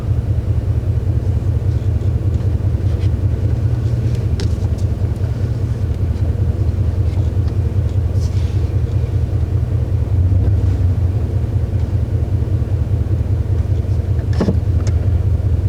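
A Dodge Ram 1500 pickup, being revived and checked for a shifting problem, drives down a street, heard from inside as a loud, steady low engine rumble and road drone with a pulsing throb that carries through the whole stretch.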